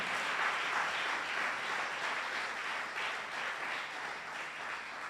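A church congregation applauds warmly and steadily, a dense wash of many hands clapping that swells slightly and then gradually thins out.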